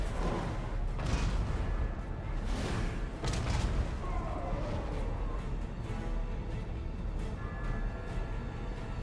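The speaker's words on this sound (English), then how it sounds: "Great cannon!" Great cannon artillery fire in Total War: Warhammer II, a dense, continuous battlefield din of heavy booms and crashing blasts with no pauses.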